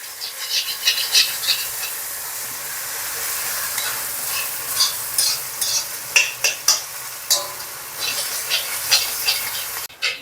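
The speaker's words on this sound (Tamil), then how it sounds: "இப்போ வந்து இஞ்சி பூண்டு பேஸ்ட் ஆட் பண்ணிக்கலாம். நல்லா போட்டு மிக்ஸ் பண்ணி விட்ருங்க" Ginger garlic paste frying with onions for Hyderabad-style chicken biryani, loud sizzling broken by repeated scraping stirs of a spoon against the pan, close up with no talking.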